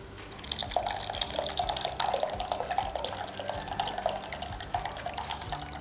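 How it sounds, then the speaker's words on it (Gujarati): Steady running water pours continuously into a pot for pav bhaji, a close, even splashing stream with no talking. "હવે આપણે પાણી એડ કરીશું"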